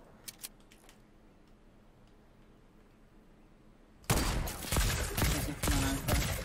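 Sniper rifle fire in the video game Fortnite comes in as a sudden loud, dense burst of cracking shots after a quiet stretch with only a couple of faint clicks.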